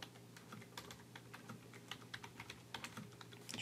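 Fingers type on a computer keyboard, a quick uneven patter of soft key clicks at close range against a quiet background hum.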